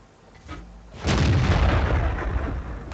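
A tank cannon fires in a tank video game, one heavy close boom that bursts in suddenly after a quiet rumbling lead-in and then rolls on in a long loud decay.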